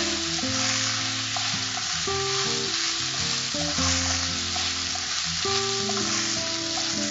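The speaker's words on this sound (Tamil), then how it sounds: "ஜீரகம் நல்லா நெய்யில் பொறிஞ்சதுக்கு அப்புறமா பாஸ்மதி ரைஸ் ஊற வச்சுருந்தாங்க இல்லையா அதை வந்து சேர்த்துருக்காங்க" Soaked basmati rice sizzles steadily in hot ghee with fried cumin, a dense continuous frying hiss mixed with stirring and background music.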